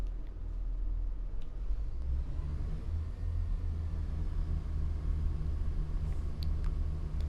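A train engine at notch 4 power in Train Sim World 4, on the Perth to Edinburgh Waverley run, gives a steady low diesel rumble that holds evenly throughout at moderate volume with faint clicks above it.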